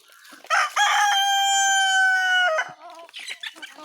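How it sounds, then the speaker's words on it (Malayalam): A rooster crows loudly and close by in one long drawn-out call, with free-range country hens clucking softly before and after it while they eat rice. "കുറേ കോഴികളുണ്ട് കേട്ടോ"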